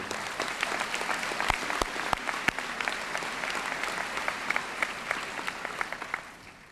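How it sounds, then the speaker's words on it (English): An audience at a high school class of 2000 graduation applauds the choir and music program, with steady, moderately distant clapping and some sharp individual claps standing out before the sound tapers off at the end. "Please give them a round of applause."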